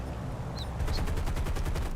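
Machine-gun fire from a B-17 bomber's guns in War Thunder, arriving after a brief lull as a fast, evenly spaced burst of loud rattling shots over a steady engine drone.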